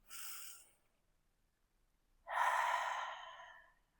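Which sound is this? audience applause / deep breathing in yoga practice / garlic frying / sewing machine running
deep breathing in yoga practice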